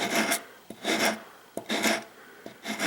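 Four rhythmic rasping strokes of sandpaper rubbing a wood veneer edge, close and fairly loud, with brief pauses between passes.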